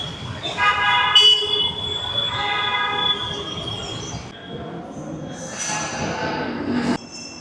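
A metro train runs at Madhavara metro station in Bengaluru, its wheels squealing loudly and steadily up close, with a brief horn-like toot and a fading rumble toward the end.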